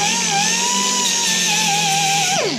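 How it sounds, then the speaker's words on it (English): A die grinder works a ridge off a tapped battery mount on a 2006 Ram 2500 Cummins, a loud, steady high-pitched whine held for over two seconds before spinning down at the end. "I'm just gonna take it off with my die grinder here"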